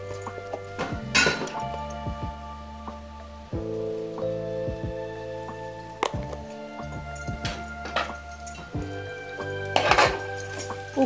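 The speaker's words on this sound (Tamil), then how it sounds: "உப்பை ஆட் பண்ணி நல்லா கிளறி கொடுத்துக்கலாம்" A spoon stirs mushrooms and salt in a pot for mushroom biryani, giving a few sharp metallic clinks and scrapes against the pot. Steady background music plays throughout.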